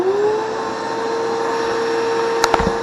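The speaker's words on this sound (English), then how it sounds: "you turn on the vacuum first" A vacuum running as suction for a homemade sand blaster makes a steady, close whining drone with a high tonal hum, followed by a few quick clicks at the end.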